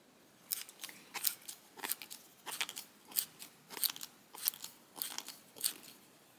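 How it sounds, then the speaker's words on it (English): A square birdcage awl bores into wood with a series of faint, crisp crunching twists, about a dozen short rhythmic bursts heard alone. "The sharp edges of the square shaft cut a nice hole through the wood."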